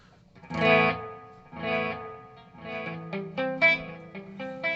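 Distorted electric guitar notes repeat through a BOSS delay pedal on its fastest setting, quick echoes trailing each phrase with a slightly warbling, chorused tone.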